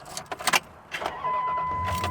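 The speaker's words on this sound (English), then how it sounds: "Truck starts right up, pretty cool." A 2000 Dodge Ram 1500 4x4 Quad Cab Sport pickup truck cranks after a few clicks and catches, then settles into a steady idle, heard up close.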